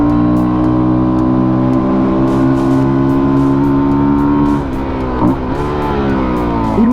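A Fantic Caballero 250 four-stroke motorcycle engine hums steadily while riding, holding a near, even tone before dipping and shifting briefly near the end.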